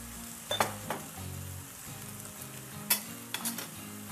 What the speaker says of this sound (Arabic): بحط من قطع الدجاج عشان يتحمر مع البصل والبطاط